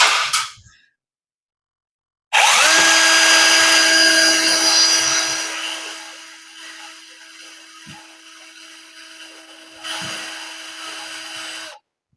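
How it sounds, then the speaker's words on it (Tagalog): A power drill whines steadily, its bit grinding into cement with a high sustained tone, then eases off before a brief louder burst near the end. "Medyo mapuro na yung ating tali ng barena kasi tumatama sa semento."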